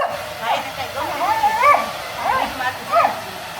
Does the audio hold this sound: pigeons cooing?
no